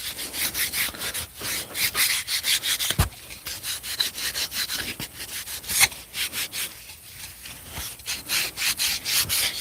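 Wax is rubbed by hand onto wooden drawer slides in steady, close back-and-forth strokes, with a rhythmic scraping and rubbing texture and occasional sharper knocks, no talk.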